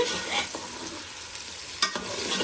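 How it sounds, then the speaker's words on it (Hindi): Chopped onions frying with chicken in a pot, a continuous close sizzle with scattered stirring scrapes and one sharper clatter near the end, no talk. "अब इसने चॉप प्याज डाल दिया है"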